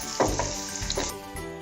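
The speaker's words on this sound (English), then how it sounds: "So we will add now capsicum and mix it well." Chopped capsicum sizzles and roasts in a hot pan for a potato sandwich, a steady loud hiss broken by a few scraping stirs of the spoon.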